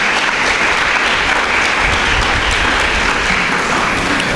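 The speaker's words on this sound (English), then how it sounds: "Let's give them a round of applause today" Loud, continuous applause fills a hall at a school speech day, an audience clapping in a dense, even roar that holds at full strength from start to finish.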